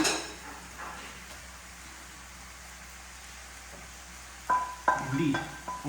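Okra tipped into a pan of masala, with a soft steady sizzle and then sharp clatters of a spoon stirring against the pan near the end.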